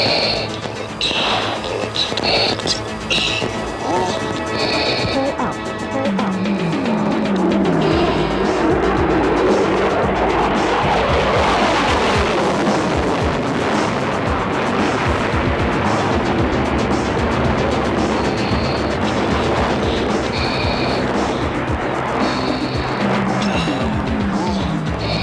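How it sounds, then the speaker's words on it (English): An F-16 Fighting Falcon flies during an aerobatic demo, a loud, sustained jet roar that swells and surges as the aircraft passes, with crackling rumble and a broad rushing tail over its length. "Captain McCluskey is now repositioning his aircraft as he prepares to demonstrate the low-altitude, high-speed capability of the F-16 Fighting Falcon."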